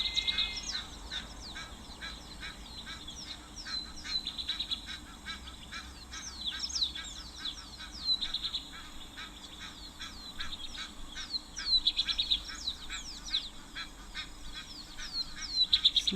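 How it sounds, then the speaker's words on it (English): Egyptian geese call repeatedly at an African waterhole, a run of harsh honking bursts coming and going at moderate distance over a quiet bush background, louder clusters near the end. "Egyptian geese are also joining in our little symphony of sound here"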